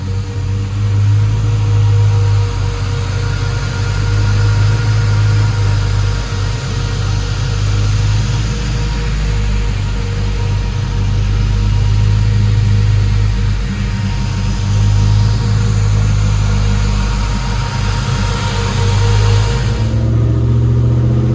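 Steady, loud engine drone from a 1955 vehicle strapped to a dyno during a tune, a sustained hum that swells slightly at times and cuts off near the end, with no voices over it.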